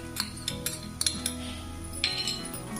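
Roasted onion with garlic cloves and ginger is stirred in a pan, heard as a handful of sharp metal spoon clinks and scrapes over a low steady hum, with little sizzle.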